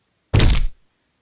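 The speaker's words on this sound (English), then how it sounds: "And the ogre's club came down with a thud." A heavy, deep thud stands in for an ogre's club crashing down in a told story: one dull, muffled impact lasting under half a second, then silence.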